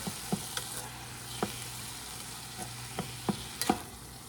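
Diced green bell pepper being stirred into a cooking vegetable mixture in a pan, with a soft steady sizzle and several sharp scrapes and taps of the spoon spaced irregularly, close and fairly quiet.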